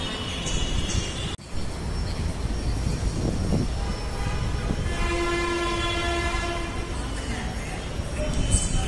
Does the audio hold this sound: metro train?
yes